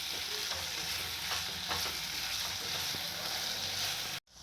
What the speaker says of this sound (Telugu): ఉల్లిగడ్డలు కొంచెం మగ్గిన తర్వాత అల్లం వెల్లుల్లి పేస్ట్ వన్ స్పూన్ వేసుకున్నాను